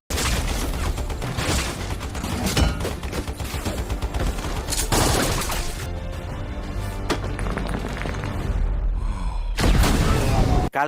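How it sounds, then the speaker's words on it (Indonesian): Film gunfire erupts in every direction, dense bursts of shots and booms layered over a loud action score, with talking mixed in and a brief thinning of the din before the barrage surges again. "dua pembunuh ini benar-benar gila dengan menembak ke segala arah"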